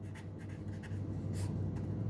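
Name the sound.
writing down the given statement on paper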